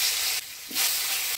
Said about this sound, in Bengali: আলুটা ফোড়নের তেলে নাড়াচাড়া করে নিলাম।